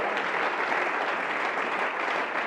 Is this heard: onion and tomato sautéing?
no